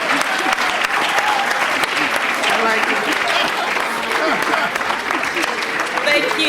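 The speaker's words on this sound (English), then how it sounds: "can you also give me a round of applause?" Sustained, dense applause from a large summit audience after a debate between university teams, loud and steady throughout with crowd noise mixed in and some voices beneath.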